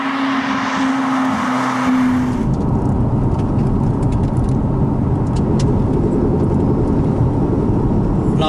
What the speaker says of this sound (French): c'est sentir un peu ce moteur Ferrari